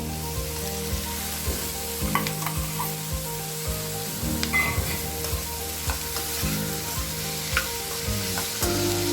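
Ivy gourds tumble into frying onions in a pan, setting off a loud, close, continuous sizzle with repeated scraping stir strokes and clinks throughout, no speech.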